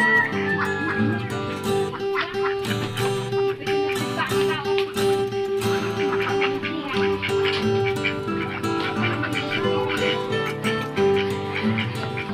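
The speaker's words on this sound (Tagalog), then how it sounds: "pato at itik yan, di ba? Oh, pato at itik." Ducks and itik ducks on a Filipino family farm, quacking and honking in a steady noisy chorus close by, mixed with other background sound and some talk throughout.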